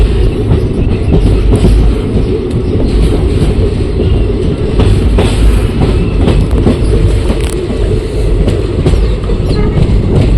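A train crossing an old railway bridge, a loud, continuous rumbling roar with rapid rhythmic clatter of wheels over the track, heard close and steady throughout with no talking.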